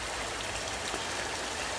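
Water flows through a pond filtration system with two sets of filter medium, beside water hyacinths: a steady, close rushing and trickling wash at an even level with no pauses and no voices.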